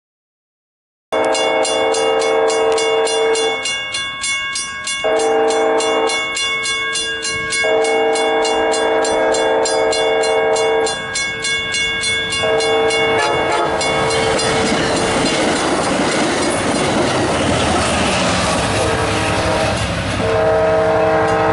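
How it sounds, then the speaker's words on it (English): A northbound Amtrak San Joaquin passenger train passes in California's Central Valley, sounding several loud, sustained horn blasts with short gaps before the rumble and clatter of the passing cars take over. "here comes northbound Amtrak San Joaquin."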